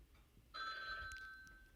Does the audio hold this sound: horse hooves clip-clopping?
no